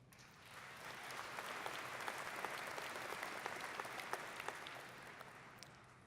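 A large audience at a Faculty of Science university convocation applauds, a dense, even wash of clapping that swells and holds for several seconds.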